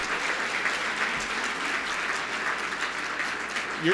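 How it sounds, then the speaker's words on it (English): A crowd at a history event gives a sustained round of applause, with many hands clapping in a steady, even wash and no clear break. A brief soft bump comes near the end. "Let's give Angie a big round of applause."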